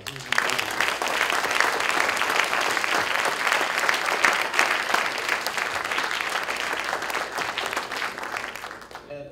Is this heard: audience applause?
yes